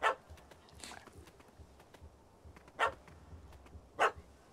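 A dog in the video game The Witcher 3: Wild Hunt barks in sharp, separate yaps, about four spaced over several seconds, moderately close above a quiet background.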